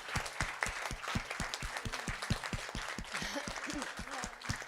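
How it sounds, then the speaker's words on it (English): Audience applause for a team at a women's leadership conference, with distinct, rhythmic claps from a small group, fairly faint and slightly distant, no voices over it. "a big applause to the WIN team"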